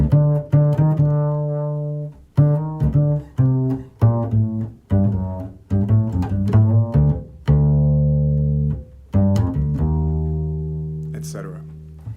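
A jazz bass plays a simple melodic solo, plucked, sustained notes in a steady rhythm, with a few pauses and some softer accompaniment behind it.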